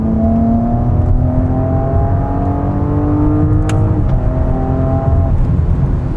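A hybrid car in sport mode roars close by, its engine note climbing and stepping down through repeated downshifts, each drop marked by a falling tone, loud and steady throughout.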